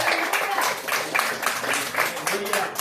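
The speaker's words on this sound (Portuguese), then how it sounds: "as palmas do Senhor Jesus." A church congregation claps in praise to Jesus during an evening service, loud rhythmic hand clapping in regular bursts with voices calling out over it.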